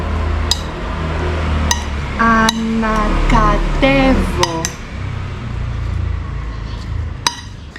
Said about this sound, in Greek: Το βάζω στη σαλάτα μου και ανακατεύω.